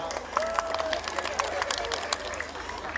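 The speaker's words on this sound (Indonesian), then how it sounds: "Kita berikan tepuk tangan dulu." An audience at an official tourism event closing in North Minahasa applauds, a spread of scattered claps across a large space, with voices and a whistle-like tone over the clapping.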